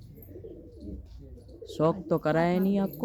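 Pet pigeons, a pair newly brought to a rooftop loft, give a deep rolling coo close to the mic after murmured background voices; someone says a few words just before.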